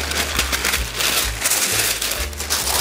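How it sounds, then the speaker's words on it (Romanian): A sheet of baking paper is handled while making potato bread baked in a lidded pot, giving close, loud crackling and rustling in uneven bursts with brief pauses between. "Mai iau o hârtie de copt."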